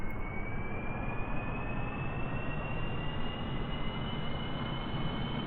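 Rocket launch in the Kerbal Space Program 1.0 video game: a steady, loud engine roar with a rumbling low end holds unbroken for the whole stretch, with no talking.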